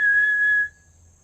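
A person whistles a single sustained, steady note for about half a second before it tapers off, heard alone against quiet outdoor background noise near a studio on a morning after a haunted-attraction Hell Night.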